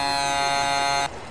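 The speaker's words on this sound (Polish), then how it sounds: "Klaksony." A Ural 6464 truck horn in American Truck Simulator blares as one steady, loud, buzzy tone held for about a second before cutting off abruptly, leaving only quiet engine noise behind.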